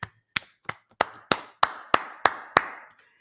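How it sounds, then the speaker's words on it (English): Nine sharp, evenly spaced claps, loud and close, steadily building in a slow rhythm at a religious class gathering, with no voices between them. "Let's clap it up for the Lord."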